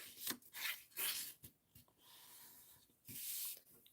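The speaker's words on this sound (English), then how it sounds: "we're going to fold and burnish this" Paper card is folded and burnished by hand, making close, quiet, bursty rubbing and scraping strokes in short sweeps with brief pauses between them.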